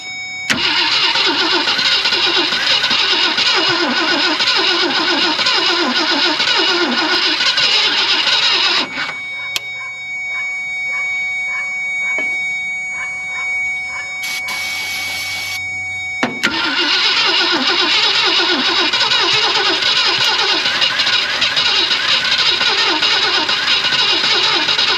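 A 1965 Ford Thunderbird engine cranks over and over trying to start, a loud continuous starter-motor churn that stops for several seconds, then resumes just as loudly without the engine catching.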